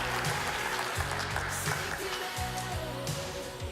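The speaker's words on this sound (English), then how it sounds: "How about a big round of applause, Mr. Jim Kausman?" An audience applauding at a live monthly show, sustained clapping at moderate loudness with a low musical beat running underneath throughout.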